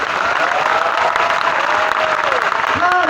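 A crowd at a political rally claps for high school students, giving sustained, dense applause close by, with whistles and shouts rising above it.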